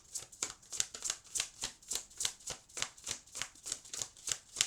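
A deck of Wisdom of the Elders oracle cards being shuffled, steady rhythmic papery riffles repeating about three times a second, close and soft, with no talking.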